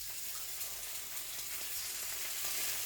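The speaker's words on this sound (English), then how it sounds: "you just cook the paste a bit in that milk, coconut cream in fact" Thai green curry paste cooks in thick coconut cream skimmed from the top of coconut milk, giving a soft, steady sizzle and bubbling with faint stirring throughout.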